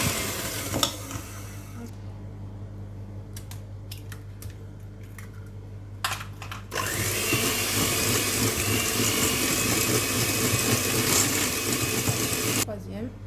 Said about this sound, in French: Et avec mon batteur, je bats rapidement